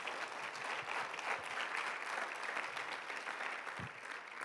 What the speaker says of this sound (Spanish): Vamos a darle un aplauso al Señor si le crees.